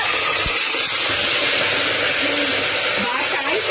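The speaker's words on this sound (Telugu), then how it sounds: "ఇదిగోండి వాటర్ పోస్తాను" Water poured into a hot pan on a stove makes a loud, steady hiss that holds for the whole moment, with a faint low rumble beneath and no talking.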